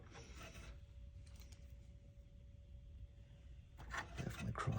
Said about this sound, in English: Definitely cross threading a little bit.